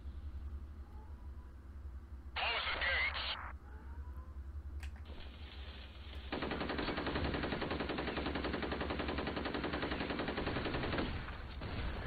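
Rapid automatic gunfire and rocket fire in the shooter F.E.A.R. Extraction Point, a short loud burst early, then a long sustained stretch of machine-gun fire that stops near the end, with no talking.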